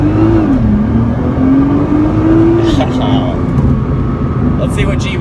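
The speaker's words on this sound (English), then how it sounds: "Rev it, rev it." A Nissan GT-R engine revs hard during a launch, a loud, sustained drone that rises, dips and climbs again, with people talking over it.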